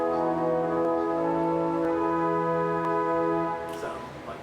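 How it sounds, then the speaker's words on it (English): Casavant pipe organ sounding string stops, a sustained chord of bright, reedy tones held steadily for several seconds before cutting off into room reverberation. "There's one more family of stops I didn't mention, and that's strings."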